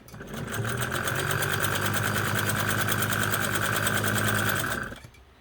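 A Kenmore 95 sewing machine runs steadily for about four seconds making long stitches, its motor hum and rapid needle clatter loud and close, starting and stopping cleanly with no talking.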